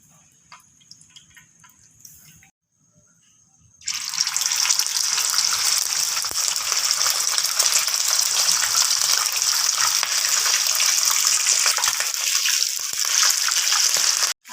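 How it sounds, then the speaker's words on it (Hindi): Chicken leg pieces dropped into hot oil in a frying pan burst into a loud, steady sizzle after a quiet start, with crackling continuing strongly until the end. "अब इन सबको मैं बारी बारी करके तकरीबन 4 मिनट के लिए फ्राई करूंगी।"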